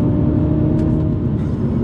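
A 2019 Mini Cooper JCW with a six-speed manual is pushed hard through a corner, its engine giving a loud, sustained drone with steady throaty rumble and no talk over it.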